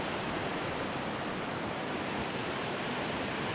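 A powerful mountain river swollen with snowmelt rushes steadily in a dense, unbroken roar, loud and close, with no voices over it.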